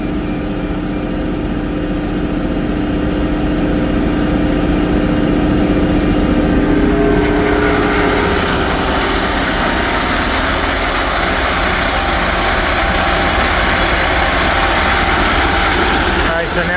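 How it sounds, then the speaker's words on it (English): Farm grain-cleaning machinery runs loudly and continuously as the shaker and tailings belt are engaged alongside a spinning conveyor, a dense mechanical drone with rattling that shifts in character partway through. "let's go ahead and engage the shaker, and then we'll engage the tailings belt"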